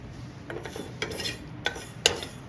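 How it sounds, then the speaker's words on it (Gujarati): Light scraping and clinking of a spoon stirring dry fenugreek seeds roasting in a metal pan, with a few sharper taps, close by and fairly quiet. "આ રીતે આપણે મેથીને શેકી લઈશું"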